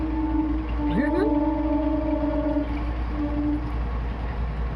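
A train rumbles past in the distance, its horn sounding a long steady tone over constant low engine noise.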